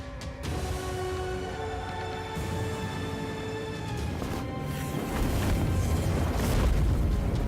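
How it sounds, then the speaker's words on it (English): A Fireball area-of-effect spell explodes in the video game Mordheim: City of the Damned, giving a deep, rumbling boom with a roaring burst that swells toward the end, set over game music and no speech. "the Warlock is ready to do some massive damage using his AoE spell, Fireball."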